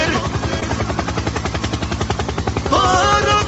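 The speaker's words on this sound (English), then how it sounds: "Helicopter." A helicopter heard from outdoors, its rotor producing a steady, loud, rapid thumping pulse throughout, with a rising engine whine near the end and faint voices in the background.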